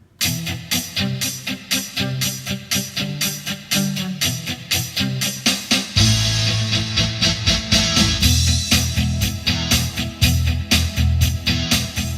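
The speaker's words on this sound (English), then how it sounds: "This one's a power rock, and it sounds like this." A Roland VA-76 arranger keyboard power rock style plays full band backing in E, with a steady driving drum beat, bass and chords, growing denser and louder halfway through.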